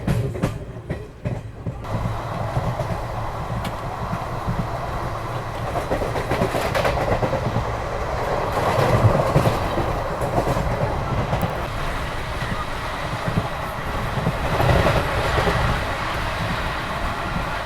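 The Varanasi–Ranchi Express rolls along inside a sleeper-class carriage, a steady rumbling drone with rhythmic clickety-clack of wheels over rail joints, continuous and close, with no talking.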